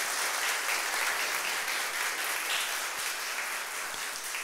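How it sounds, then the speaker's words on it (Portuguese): An audience claps in dense, steady applause that stays loud and even for a few seconds, with no one speaking over it. "Eu bato palmas também porque essas palmas são encaminhadas ao mentor que me inspirou"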